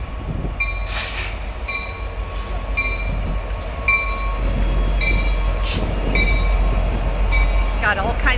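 An orange freight train loaded with containers rolls past close by, its steady rumble of rail cars rising in the second half, with sharp squeals and clanks from the wheels.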